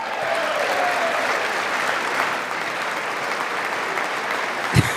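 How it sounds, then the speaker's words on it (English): One side of the audience stands and claps during the State of the Union address, a dense, even spread of applause that continues at moderate level and ends with a brief thump. "Literally one side standing and clapping"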